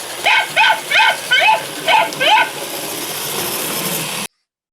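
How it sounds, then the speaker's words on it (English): A recorded dog barking plays through a loudspeaker: six evenly spaced, fairly loud barks in a steady rhythm, then a lingering hiss from the speaker before the sound cuts off. "Dog sound, similarly, only a different speaker, it's a different track."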